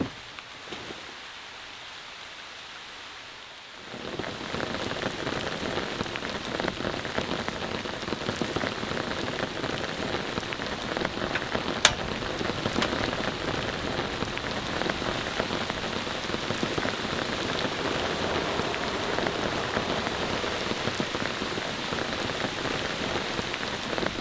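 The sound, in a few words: heavy rain pouring on camp in mountains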